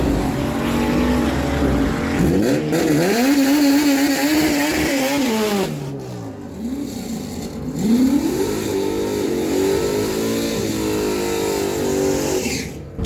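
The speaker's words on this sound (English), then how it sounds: "Norman Gideon bringing that machine in on the left side of the track out of Quebec, a 1980 Chevy Malibu, 1106 dial." A 1980 Chevy Malibu drag racing car launches down a dragway track, its engine roaring loudly and climbing through revs, dropping off, then surging again as the run continues.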